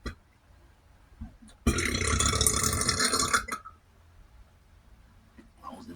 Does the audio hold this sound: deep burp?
yes